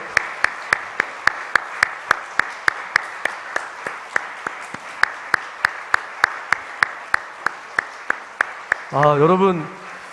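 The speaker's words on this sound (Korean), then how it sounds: "들어가실 때까지 한번 박수 한번 부탁드릴까요?" Steady rhythmic clapping from a church congregation at a worship service, sharp claps in an even beat over a warm sustained backdrop, ending as music or voices swell near the end.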